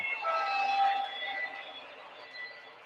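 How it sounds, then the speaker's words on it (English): Model trains run in a train room, giving a steady, loud mechanical rumble and whine that holds for about three seconds with no one talking. "I love these trains so much, but you know, it can be a little loud at times"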